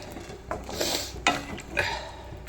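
A spoon scrapes and clinks inside a cooking pot as a spicy Tamil kara kuzhambu made with broad beans and brinjal is stirred, giving soft close scraping strokes with a few sharper metallic knocks.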